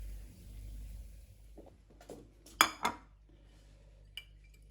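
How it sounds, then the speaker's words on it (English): Sauce is spooned over oysters, giving quiet metal-on-shell clinks and scrapes, with a couple of sharper taps midway and a faint one near the end against a low background hum. "Turn the heat off now and spoon it on top of the oysters."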